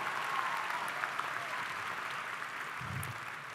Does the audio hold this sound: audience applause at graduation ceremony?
yes